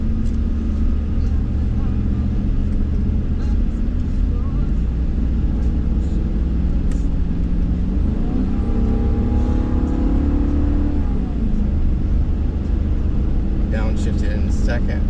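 Heavy-duty pickup truck towing a half-ton 5th wheel trailer at about 40 mph, engine droning steadily as it accelerates, with rising gear tones and a shift around the middle; someone talks over the engine throughout.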